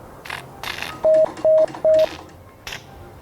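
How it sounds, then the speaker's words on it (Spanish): Three short, evenly spaced Morse code beeps spelling the letter S, sent over a recreated Titanic radio set, each clear steady tone standing out over a faint crackling hiss. "Han sonado 3 puntos en código Morse."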